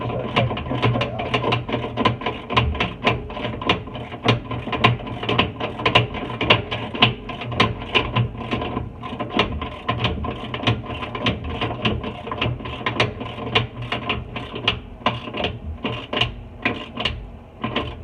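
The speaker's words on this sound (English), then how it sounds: "going to our ratchet. Start trying to get that out." A ratchet clicks rapidly and steadily while working a bolt loose on a 2012-2018 Jeep Wrangler JK coolant line during a coolant filter install, close up and continuous for the whole stretch, with no voices.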